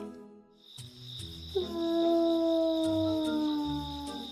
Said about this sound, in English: At such times, he'd go to his den and howl